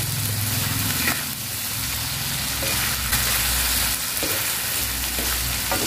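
Eggs hit a hot pan and fry with a loud, continuous sizzle, with repeated stirring scrapes and clinks of a utensil throughout.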